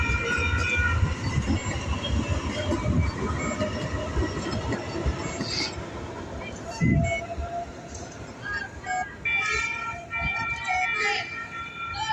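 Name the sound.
train passing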